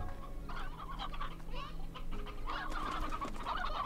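Chickens and roosters clucking in the farm game Slime Rancher, a busy run of bird calls that continues steadily through the whole stretch at moderate loudness with no talk over it.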